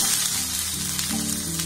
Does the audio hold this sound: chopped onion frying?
yes